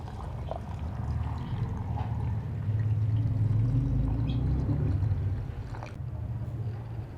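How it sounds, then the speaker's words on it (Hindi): Water pours steadily into a blender jar with sugar, lemon juice and salt for cucumber juice, a continuous close splashing fill lasting several seconds with no talk. "पानी डालेंगे।"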